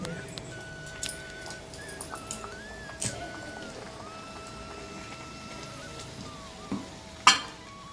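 Thattai dough fries in hot oil, a soft continuous sizzle with scattered small pops and ticks, plus a sharper clatter near the end, heard close and fairly quiet.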